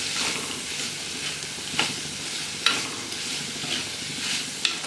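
Onions and shallots sautéing in hot oil for a Kerala prawn roast, a steady close sizzle with a few sharp scrapes of a spoon stirring the pan.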